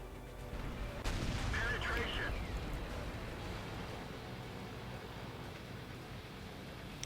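Tank guns fire in World of Tanks matches with E50, Panther and T44 medium tanks: one deep booming shot followed by a long rumbling roar of engines and battle noise, dense and steady, with no talking.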